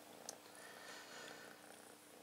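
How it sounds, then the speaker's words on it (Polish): A small tailless cat purrs softly and steadily up close, a faint continuous rumble with no voices. "nikt nie mruczy na całej galaktyce tak jak ja"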